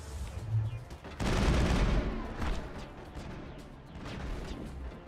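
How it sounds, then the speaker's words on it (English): A heavy shotgun blast in the Mass Effect video game lands as one loud close burst, followed by lighter scattered gunfire and impacts over a busy combat background. "And I'll take out my shotgun."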